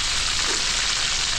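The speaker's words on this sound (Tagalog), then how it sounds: "Tapos si Jepoy nagpiprito na ng cordon Blue." Cordon bleu frying in hot oil at a farm birthday cookout, a dense, even sizzle that fills the moment without pause.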